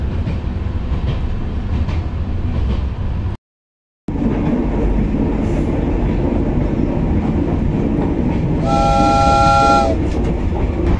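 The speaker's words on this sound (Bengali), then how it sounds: "আমাদের ট্রেন তো সুন্দর করে চলছে" A tourist train runs along with a steady, loud rumble and rattle of carriages, briefly cut out early on, then a sustained horn blast sounds near the end. No one speaks.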